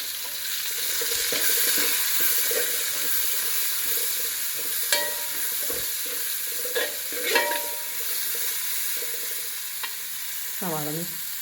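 Chopped onions sauté in an aluminium pan, a steady broadband sizzle with scattered stirring scrapes and clicks and a brief rising squeak near the end, close and moderately loud with no voices.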